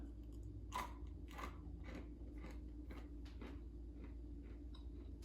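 Close, crisp crunches and chewing of a zero-calorie graham cracker, several bites breaking sharply, then quieter chewing against a faint background hum.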